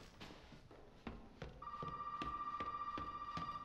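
A telephone rings steadily in Resident Evil 7, a sustained electronic tone that starts partway through. Regular low thuds repeat throughout beneath it.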